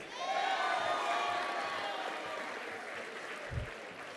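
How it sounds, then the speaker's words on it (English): Applause and crowd noise at a Year Up Bay Area graduation ceremony for a graduate, a continuous wash of clapping with faint cheering that gradually softens. "Extra round of applause for Fabian."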